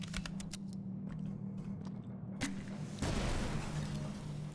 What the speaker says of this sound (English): Shoot liquid nitrogen canisters with a flare to cause them to explode.